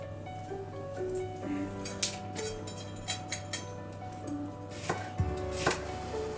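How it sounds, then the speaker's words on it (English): A knife slicing a red pepper into thin strips of about 2 to 3 millimetres on a board, giving soft irregular taps and cuts under a steady background hum, with no talking. "So nice thin slices, red pepper."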